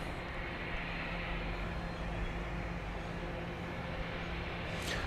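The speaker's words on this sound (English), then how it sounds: "the plane that just landed was coming from Amarillo, Texas, 737-700, flight 280, Southwest" Steady, even engine roar of a Southwest Airlines Boeing 737-700 just after landing at Dallas Love Field, a sustained broadband drone with a low hum heard from outside at moderate distance.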